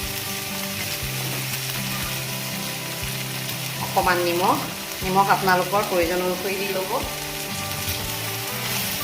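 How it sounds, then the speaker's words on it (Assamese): Dhekia fern greens with turmeric fry and get stirred in a pan, giving a steady, close sizzle throughout while a voice speaks briefly over it in the middle. "এতিয়া ঢেকীয়াখিনি ভালকৈ লৰাই লৈছোঁ।"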